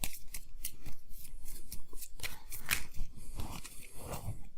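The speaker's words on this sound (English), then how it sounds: "so let me shuffle again." Board game cards for Xi'an being shuffled, a quick run of crisp riffling and flicking snaps close by, repeated in short bursts with no talking.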